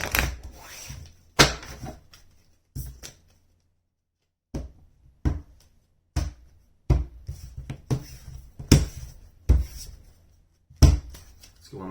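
Tarot cards being shuffled by hand in a sequence of crisp riffling and tapping bursts, some short and some longer, with brief pauses in between and no talking.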